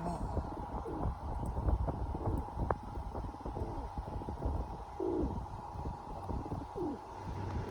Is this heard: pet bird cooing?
yes